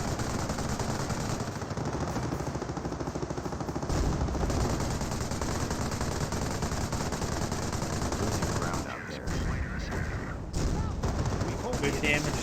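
Gunfire in the World War II strategy game Company of Heroes, with continuous machine-gun bursts and rifle fire crackling densely throughout and a few heavier booms, loud and sustained over game noise.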